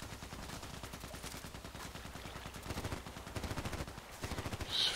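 Rapid automatic gunfire from the Contract Wars shooter game rattles in quick, dense bursts, fairly faint and continuous, with rhythmic clusters of shots.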